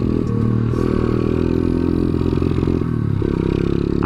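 Small motorcycle engine, a modified bike that tops out around 50, running loud and close with rough revving surges and a clattery mechanical rattle throughout, no talk.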